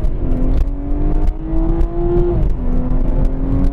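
A 2016 BMW 340i accelerates hard in first gear toward its 7,000 rpm redline, the engine note loud and close, climbing steadily in pitch with a brief dip at a gear change before it rises again.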